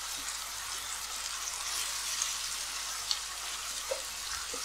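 Sauerkraut frying in a pan with fried onion and bacon, a soft, steady sizzle with a few faint pops, quiet and close with no voices.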